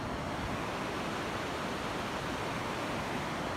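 River at the top of Skogafoss waterfall in Iceland, a steady dense rushing roar with no breaks, loud and even throughout, no voices.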